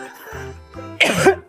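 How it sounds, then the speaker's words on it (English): A reporter coughing on live TV during a weather segment, a short throat-clearing rumble followed by one sharp, close cough burst. "Persistent coughing always seems to catch reporters at the worst times, doesn't it?"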